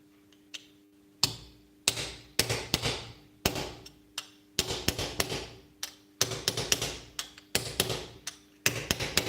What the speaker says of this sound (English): this stem of the drill, I will hammer it in so that I make like a groove